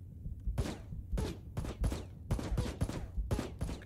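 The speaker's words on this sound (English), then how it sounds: "they're shooting the hell out of me" Gunfire in the PS3 game Ride to Hell: Retribution, with enemies shooting at the player: a close, loud run of sharp shots in uneven rapid bursts, about a dozen cracks in a few seconds.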